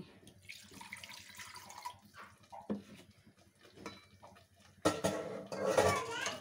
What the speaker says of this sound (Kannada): ನಾನು ಇನ್ನೊಂದು ಸ್ವಲ್ಪ ನೀರು ಹಾಕ್ಕೊಳ್ತೀನಿ.